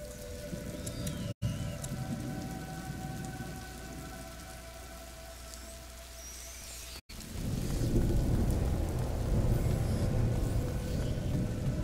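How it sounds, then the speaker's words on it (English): Steady rain hisses and patters in A Plague Tale: Innocence, a dense, even wash that swells louder near the end, with low rumbling beneath and no voices. "Lucas, Hugo, stay out of the rain."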